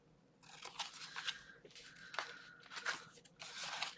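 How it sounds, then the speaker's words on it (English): Paper for a folio is cut along score lines in several short bursts of crisp, rasping slicing, each lasting under a second, heard close and fairly quiet. "And then I'll cut through the bottom through those score lines."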